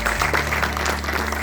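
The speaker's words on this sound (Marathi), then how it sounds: "सर्वात प्रथम आपण यांच्यासाठी जोरदार टाळ्या वाजवूया" Brief burst of audience clapping at a cultural program honoring a dancer, dense and fairly loud, with a low hum underneath.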